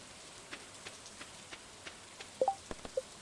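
Rain falling in a video game, a soft steady patter with scattered sharper drip-like ticks growing more frequent near the end, quiet and without talking.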